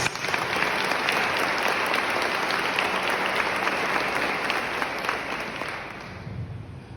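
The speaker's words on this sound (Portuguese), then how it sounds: "Vamos aplaudir a palavra de Deus" A church congregation at a sanctuary service applauds in a sustained, fairly distant wash of many hands clapping that tapers slightly toward the end.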